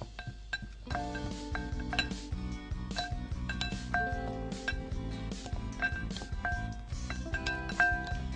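Utensils clink and scrape against a bowl in a continuous, uneven rhythm as a salad is tossed with its dressing, light metallic and glassy taps throughout.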